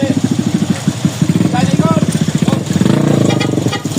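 A motorcycle engine runs steadily close by on Burias Island, its low pulsing drone continuous throughout while people talk over it.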